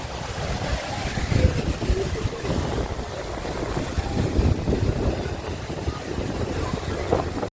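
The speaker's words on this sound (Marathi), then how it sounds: "इथून बघा कसा धबधबा दिसतो आता खाली" A steady, dense roar of Dhangar Waterfall near Badlapur fills the whole stretch, heard from a distance above and mixed with gusty wind buffeting the microphone.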